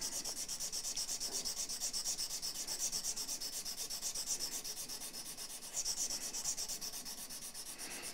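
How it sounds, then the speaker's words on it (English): Steady back-and-forth sanding of a guitar nut during a re-fret, a continuous close rhythmic rubbing scrape of abrasive on the small nut blank, with no talk. "So I want to keep on sanding backwards, get a bit of a backwards slope on it."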